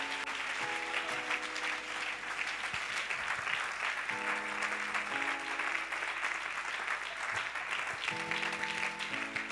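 A church congregation at a Sunday worship service claps in steady, dense applause that fills the room, with sustained organ or keyboard chords ringing underneath throughout.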